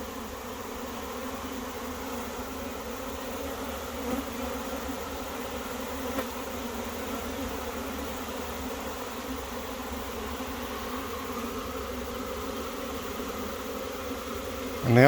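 Swarm of honey bees buzzing steadily around a hive frame, a dense continuous drone close by that holds level throughout with no talk.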